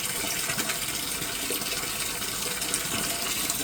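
Water pours and gushes steadily from a basement sump pump as it empties the pit, a continuous, bright splashing rush at moderate level with no talk over it.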